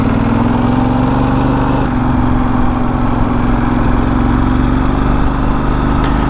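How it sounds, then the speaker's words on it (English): A Benelli Leoncino Trail 800 motorcycle, a roughly 752cc scrambler, idles with a steady, smooth low rumble that stays close and loud, unbroken and without talk, for the whole stretch. "A really nice smooth rumble coming from this engine"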